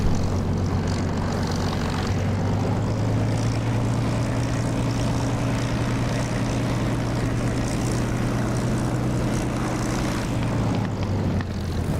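A Spitfire in the DCS flight simulator runs its propeller engine up for takeoff, a loud continuous drone that holds steady with a slight rise in pitch, alone with no voices.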